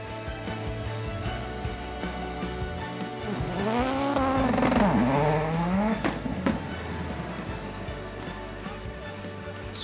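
Rallycross race cars compete in sprint heats at Lohéac, engines revving loudly with rising and falling pitch as cars pass, tires squealing and skidding on the track amid continuous motor noise.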